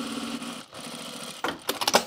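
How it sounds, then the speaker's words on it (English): Sewing machine stitching along both sides of a folded fabric draw cord for pants, a short steady mechanical run followed by a few brief bursts of stitching near the end. "now I'm just gonna stitch on either side of this cord here"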